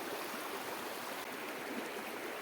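Steady rushing of a cold flowing stream at Thathengalam near Mannarkkad, continuous broadband water noise with no voices, close and fairly even throughout.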